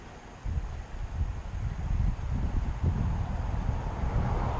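Strong wind roaring into the microphone, a low buffeting rumble that swells after a quieter start and stays loud and continuous.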